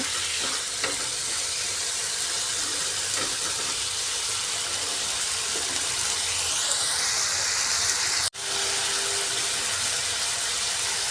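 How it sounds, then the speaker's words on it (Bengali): Potatoes and onions fry lightly together in a pan, giving a steady, close sizzling hiss that runs unbroken for the whole stretch, with a brief stirring break near the end and no talk. "আলুটাকে আর আলাদা করে বাটছি না পেঁয়াজের সাথেই আমি হালকা ফ্রাই করে নেব"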